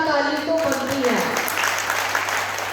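Audience in a community meeting hall applauding: broad, steady clapping that builds after a voice fades out, then holds as a dense patter for the rest.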